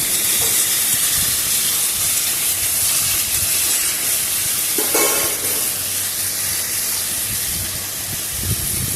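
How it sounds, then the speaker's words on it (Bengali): Vegetables frying in a pan for a Bengali khichuri, a loud continuous hiss of oil with one brief clatter near the middle, no voices. "এবার ভালো করে আমি এটাকে ভাজতে থাকবো"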